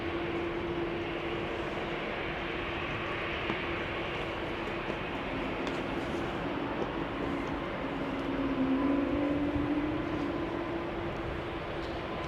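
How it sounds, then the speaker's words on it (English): An Airbus A220 takes off from runway 18 left at Amsterdam Schiphol, a steady loud engine roar with whale-like rising and falling tones near the end. "Whale sounds emanating from the engines of the A220."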